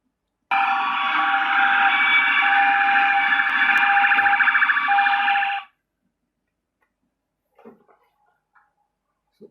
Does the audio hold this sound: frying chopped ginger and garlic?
no